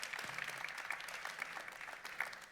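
An audience applauds at a French public forum on local healthcare access, with dense, continuous clapping that stays fairly even, broad and moderately loud, lightly mixed with crowd murmur.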